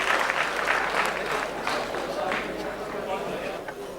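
Sustained, loud applause from an audience welcoming a poet at a humorous mushaira poetry gathering in Delhi, steady clapping filling the whole span with crowd noise.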